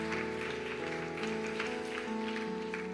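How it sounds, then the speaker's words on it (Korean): Church congregation at a Korean youth service clapping together, a steady patter of hands under sustained organ or keyboard chords that hold and shift, moderately loud and continuous. "우리 하나님께 감사의 박수 올리겠습니다."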